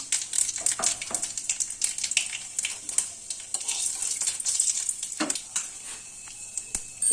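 Panch phoron spices fry in about a spoon and a half of oil, giving a close, bright sizzle with rapid crackles and small pops, alone with no talk.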